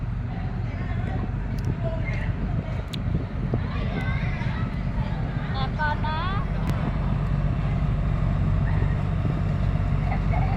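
A boat's motor drones past on a river, a steady low rumble under open-air wind noise, with birds chirping faintly and a person talking now and then nearby.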